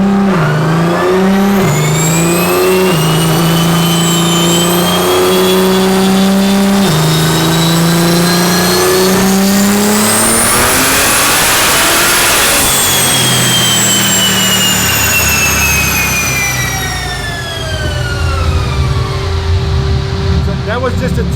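A twin-turbo BMW making 1,109 bhp at 36 psi boost screams on a dyno, its engine climbing through the revs in loud rising sweeps, briefly dropping back, then running hard again while people talk underneath.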